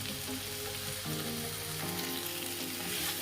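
Coriander stems frying in a pan, a steady close sizzle with a broad hiss that holds throughout, shifting slightly in texture as the food settles.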